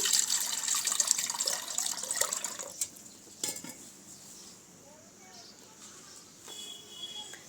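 Buttermilk pours into a cooking pot for Kathiyawadi kadhi with a liquid splashing rush and light metallic clinks, then fades to quieter handling sounds while a person talks.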